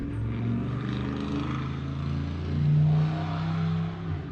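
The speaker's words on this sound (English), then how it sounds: "Oh, that exhaust sounds so terrible, doesn't it, Duff?" An LS-swapped Trans Am's exhaust drones and rises into a loud rev with a deep, raspy tone, then settles back to a steady, rumbling idle, close by with no talk.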